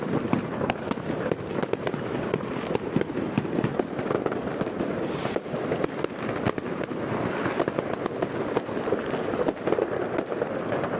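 Continuous New Year's Eve fireworks over Denmark, dense overlapping bangs, crackles and pops rolling on without pause from near and far, loud throughout.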